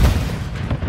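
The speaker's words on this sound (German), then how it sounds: "Granate ist raus!" A grenade explosion in Call of Duty: Modern Warfare III multiplayer, heard as a single deep booming blast with a rumbling low-end tail lasting under a second.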